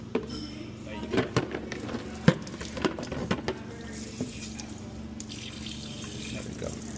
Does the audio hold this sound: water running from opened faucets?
yes